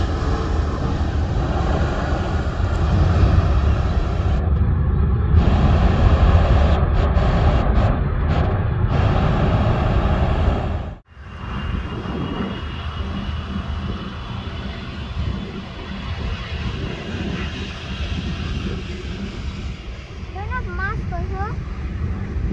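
MASkargo cargo airplane at KLIA, Kuala Lumpur International Airport: a loud, sustained jet roar that briefly drops out midway and then resumes, with people talking over it.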